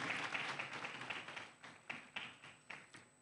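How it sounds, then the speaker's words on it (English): Applause for a conference planning committee, a brief burst of clapping that thins out into scattered, separate claps and taps, fairly faint and fading over a few seconds. "A hand of applause for them."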